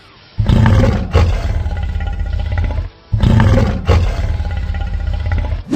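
Abelisaurus dinosaur roar from the Dinosaur King cartoon: two loud, growling roars in close succession, each about two and a half seconds long with a brief gap between, heard alone with no speech.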